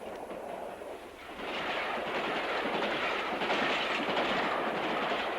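A Great Western main line train on the Bristol to Exeter line runs through Highbridge station, a broad steady rumble with clickety-clack wheel beats that swells louder partway through and holds.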